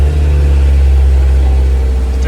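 Honda S2000 engine fitted with a custom intake, revving steadily with a loud, dense low-frequency drone and prominent exhaust note throughout, close to the microphone with no talking.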